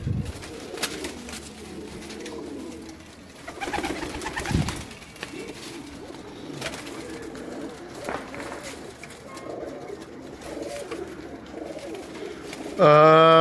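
Bred pigeons coo softly in a loft, low murmuring calls that repeat across the clip amid light shuffling, with a burst of other sound at the very end.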